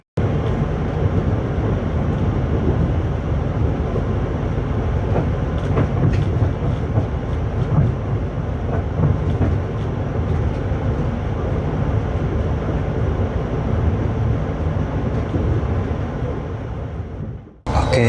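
The Argo Muria night passenger train from Jakarta to Semarang rolls along in a steady, loud rumble heard from inside the carriage, with faint rhythmic wheel clatter, ending in an abrupt cutoff.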